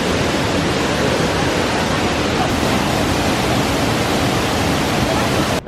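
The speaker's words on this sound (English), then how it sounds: "This is my first time ever coming to a waterfall, so I'm really excited." A waterfall in Thailand roars as a steady, loud, dense rush of falling water, unbroken for the whole stretch and heard alone.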